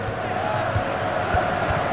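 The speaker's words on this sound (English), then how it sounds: "Here we go, the crowd excited about this one" A stadium crowd roars in a steady, dense wash in the FIFA 2002 video game during a Manchester United match, with no break in the noise.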